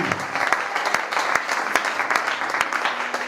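A congregation applauds during a French-language church service, dense steady clapping from many hands filling the room for a few seconds, with faint voices mixed in.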